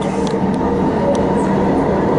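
Upfield line train running steadily with a continuous broadband rumble and rattle, heard from inside the carriage at even loudness with no clear talk.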